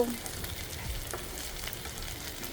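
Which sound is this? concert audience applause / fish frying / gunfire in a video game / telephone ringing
fish frying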